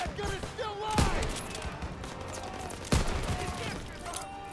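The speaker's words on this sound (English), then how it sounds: "Keep firing! That gun is still live!" Call of Duty: WWII battle gunfire: rapid bursts of shots with two loud sharp blasts standing out, mixed with shouting voices and chaotic combat noise.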